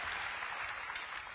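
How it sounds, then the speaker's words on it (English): A Reform UK election rally crowd in Birmingham gives a brief, fairly soft burst of continuous applause, with no clear voices over it. "Rapturous applause, Luke. You've got a standing ovation."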